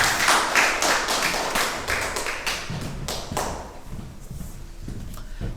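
Congregation applauding in a church service to welcome a missionary serving in Georgia, a dense wash of claps that starts loud and gradually thins out.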